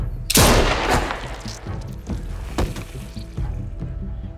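Gunfire in The Walking Dead video game: a loud close shot bursts out, followed by a few further sharp reports and echoing booms over a dense, rumbling game soundtrack.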